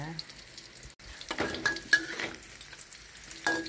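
Thai fish cakes (tod man pla) fry in hot oil, pressed down in the pan, with scraping and stirring strokes at irregular intervals over a soft, steady sizzle, close and moderately quiet.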